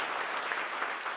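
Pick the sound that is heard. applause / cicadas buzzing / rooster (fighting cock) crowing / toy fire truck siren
applause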